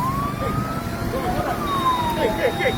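An ambulance siren wailing as it pulls away from a burning private school, rising and falling under steady crowd and traffic noise, moderately close.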